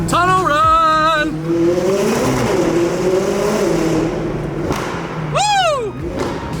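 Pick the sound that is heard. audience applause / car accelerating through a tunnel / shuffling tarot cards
car accelerating through a tunnel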